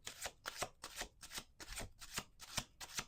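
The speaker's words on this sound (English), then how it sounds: "We're gonna do 2 more shuffles" Tarot cards are shuffled in a steady rhythm of about eight soft riffling bursts, close and quiet, with no talking.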